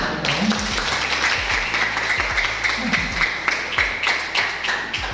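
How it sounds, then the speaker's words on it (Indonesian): An audience applauds at an Indonesian teaching performance assessment, a brisk patter of many hands clapping for a few seconds, fairly close, with some low murmuring mixed in. "Tepuk tangan untuk negara kita."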